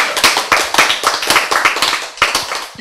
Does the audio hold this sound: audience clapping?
yes